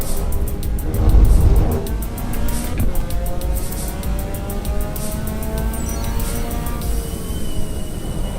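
A race car engine in the Assetto Corsa EVO racing game revs hard under throttle, its pitch climbing in repeated gear sweeps, with a brief low thump near the start and no talking.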